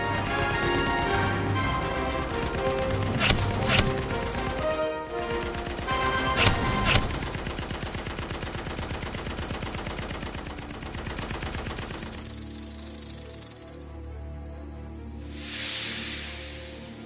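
Rapid bursts of gunfire and machine-gun fire ring out loudly in a horror scene, layered over a tense music score, with a few sharp single shots cutting through before the firing stops and the scene goes quieter.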